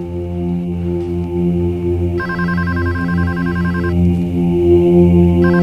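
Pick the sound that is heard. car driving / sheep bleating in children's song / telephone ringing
telephone ringing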